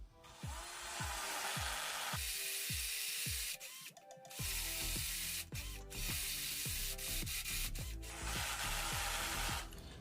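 Up close, a cordless drill fails to bore in, grinding and rattling steadily as its gears slip, the harsh whirring broken by brief dips and stutters throughout.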